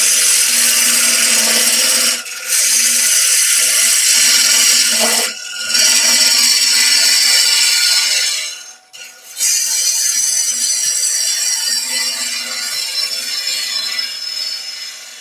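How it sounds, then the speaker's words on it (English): A wood lathe spins a potpourri pot blank while carbide-tipped tools cut into the wood, giving a continuous whirring, scraping drone with a few short pauses where the tool lifts off. "a little bit of work with the carbide tip tools in a minute because I want to be able to cut in under that shoulder"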